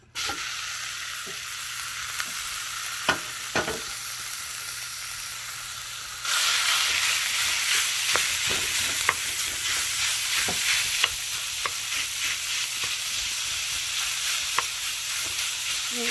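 Rough-cut bacon pieces frying in a pan, a continuous close hissing sizzle that grows louder and brighter partway through, dotted with occasional pops and scrapes, no talking.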